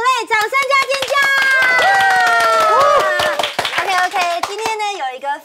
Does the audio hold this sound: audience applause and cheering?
yes